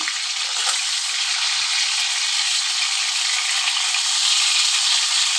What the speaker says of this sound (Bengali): মাথাগুলো ভেজে নিচ্ছি